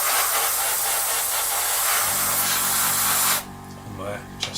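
An airbrush sprays paint onto a model's glasswork in a loud, continuous close hiss for several seconds, then cuts off abruptly, leaving faint handling noise afterward.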